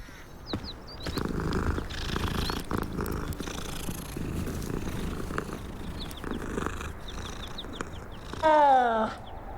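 A cat in the Hogwarts Legacy video game purrs in a steady, close rumbling loop, with faint bird chirps scattered above and a brief louder chirping burst near the end.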